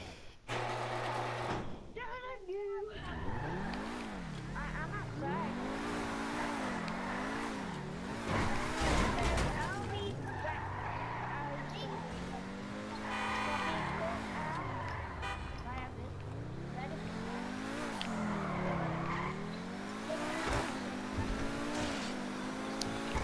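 A Progen GP1 car in GTA V revs and drifts, its engine note sweeping repeatedly up and down while tires squeal and skid throughout, close and loud, with people talking over it at times.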